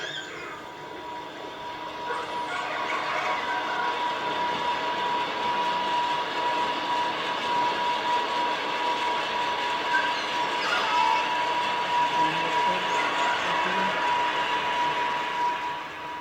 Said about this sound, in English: a cruise ship comes into view, or into the area that this hydrophone can pick up